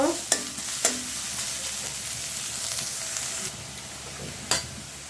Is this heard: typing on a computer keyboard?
no